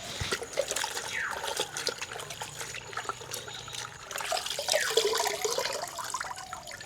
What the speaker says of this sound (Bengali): আগে শাকগুলো কাটার আগে ধুয়ে নেব।